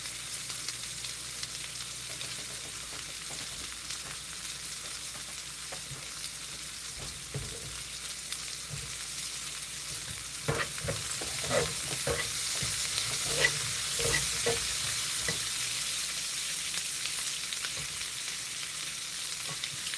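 Onions frying in a pan give a steady broadband sizzle, with a burst of louder stirring and scraping clatter partway through, heard alone and close without talk.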